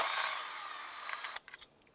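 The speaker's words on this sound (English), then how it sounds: "we're going to use an 8mm socket and remove this right here" A power tool fitted with an 8mm socket whirs at high pitch, backing out a stud on a 2001-2007 Ford Escape engine, then stops abruptly after about a second and a half, leaving a few faint clicks.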